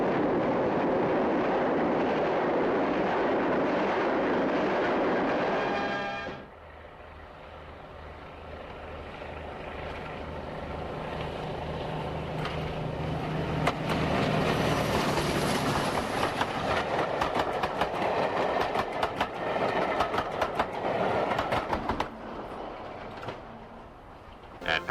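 British Railways diesel-hydraulic train on the Western Region running at speed, first a steady loud roar that drops sharply, then a building rush of wheels and rail clatter with rapid rhythmic clicks.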